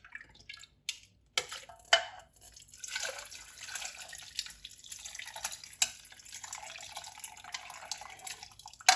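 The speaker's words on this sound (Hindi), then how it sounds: "पानी भी आपने साथ ही डालना है।" Water trickles and splashes into a juicer jug holding carrots in a home kitchen, a soft, close pour with scattered drips and light clinks, no voices.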